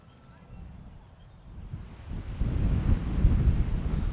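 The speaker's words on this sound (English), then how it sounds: "We had a couple of really windy days this week" Wind buffets the microphone, starting soft and growing into a louder, rumbling gusty roar.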